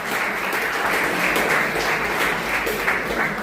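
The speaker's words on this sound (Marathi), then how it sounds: "जोरदार टाळ्या देऊया." Audience applause for teachers at a school gathering, a steady wash of many hands clapping for a few seconds with no break, fairly near and filling the room, no voices over it.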